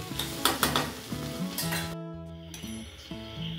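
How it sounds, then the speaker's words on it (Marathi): Okra bhaji (bhendi) cooks in a pan, sizzling steadily while a spatula stirs and clinks against the metal in several close knocks and scrapes, with a brief lull midway. "अजून आपण ह्याला थोड्या वेळ अशीच शिजवून घेऊ।"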